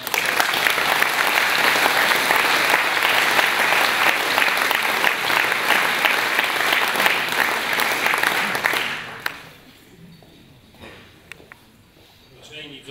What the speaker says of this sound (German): Ich glaube, da ist auch mal ein Applaus nötig.